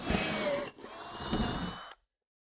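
A cheap jigsaw cuts circles out of board, with a loud, steady buzzing run of about two seconds that stops briefly partway through and then cuts off abruptly.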